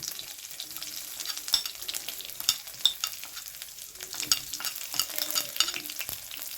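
Cumin seeds temper in hot oil alongside bay leaf, crackling and sputtering in a dense run of small pops and sizzle, close and moderately loud, with no talk.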